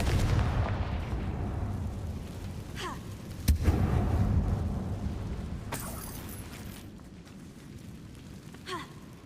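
A Confringo fire spell in Hogwarts Legacy explodes inside an abandoned mine, a sudden sharp blast at mid-clip over a dense, rumbling game soundscape, with fainter bursts and crackles before and after.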